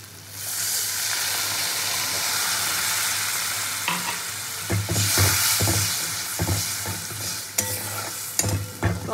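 Fried spice paste with milk just added sizzles loudly in a pan as a steady hiss, then breaks into choppy bursts of spoon scraping and stirring close by, with no talking.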